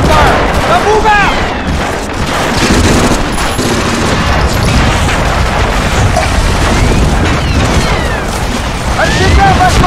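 Covering gunfire in Medal of Honor: Frontline on a beach assault toward a seawall: loud, continuous volleys of rifle and machine-gun shots with booming explosions and shouting voices throughout.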